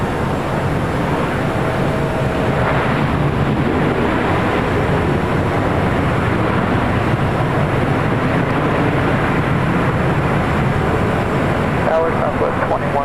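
An airliner bound for Dubai rolls down runway 25 left at LAX for takeoff, a loud continuous jet roar with rushing wind-like noise, while a voice talks over it at times.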